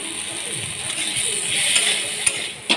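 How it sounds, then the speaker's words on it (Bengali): Hot water poured into fish masala frying in a pan brings a steady, bright hiss of sizzling that swells slightly midway, with a few faint clicks near the end and no talking. "এবার এটাতে একটুখানি গরম জল দিয়ে দিলাম"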